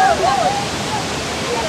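A waterfall gives off a loud, steady rushing roar, with brief whistle-like tones over it at the start.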